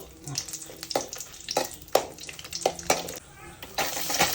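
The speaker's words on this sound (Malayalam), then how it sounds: "എണ്ണ ഒഴിച്ചതാണ്, വെളിച്ചെണ്ണ ഒഴിച്ചു, വറമുളക് ഇട്ട് കൊടുത്തു" Dried red chilies sizzle in hot coconut oil in a pan for a tomato chutney. A steady crackling hiss sits close under repeated scraping taps of a spatula, with no talking.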